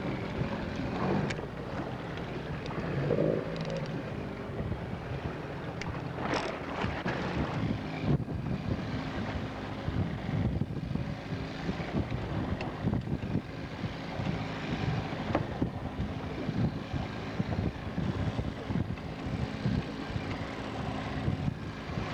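Fishing boat motor drones steadily on the water during walleye fishing, mixed with constant buffeting wind noise on the microphone, with no one speaking.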